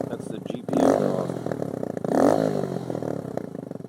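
A custom Kawasaki Z125 with an M4 GP exhaust revs in two sharp throttle blips, its raspy single-cylinder note rising and falling close by over a steady idle.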